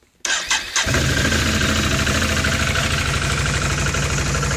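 A Bombardier Outlander 500 ATV engine cranks briefly and catches on a cold start, then settles into a loud, steady, close-up idle with no talking.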